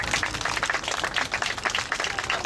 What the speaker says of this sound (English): Can you give him an applause for his heart?